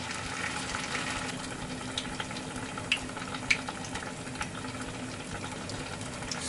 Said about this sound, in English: And put this unagi, fake unagi inside. And deep fry about 3 minutes.